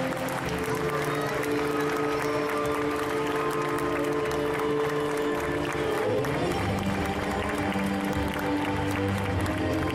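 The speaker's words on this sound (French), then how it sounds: "Un tonnerre d'applaudissements, s'il vous plaît" An audience applauds at an indoor cosplay parade, a continuous dense wash of clapping and crowd noise that stays loud and steady throughout.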